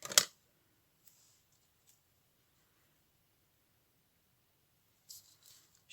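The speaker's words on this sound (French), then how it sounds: "Je vais prendre mes ciseaux." Scissors cut through paper in two short, crisp snips, one at the very start and a fainter one near the end, with near silence between them.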